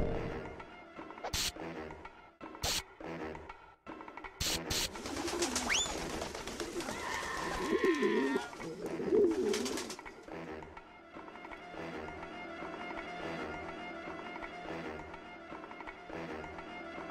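Pigeons coo in the video game Jazzpunk, a warbling burst of calls mid-clip among sharp game impacts and a steady droning background.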